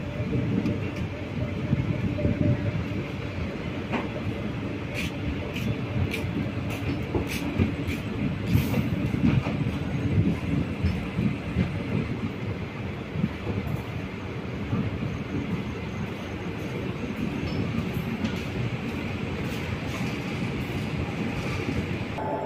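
Mannargudi to Chennai Egmore Mannai Express standing at a platform at Mannargudi station, a steady broadband rumble of idling locomotive and station ambience with scattered clanks, continuous throughout with faint voices.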